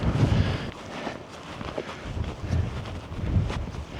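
Strong wind gusts buffet the microphone on the snowy summit of Helvellyn in freezing conditions, a continuous rough roar that swells and eases, with faint shuffling movement underneath and no talk.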